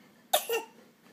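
A single short cough, close and clear, with a brief rasp trailing after it in a quiet room.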